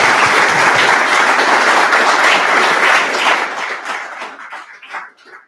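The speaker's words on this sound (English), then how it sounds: "I think they deserve a round of applause." A conference audience gives a sustained round of dense, loud clapping at a finance and crypto industry talk, holding steady for several seconds before thinning out to scattered claps.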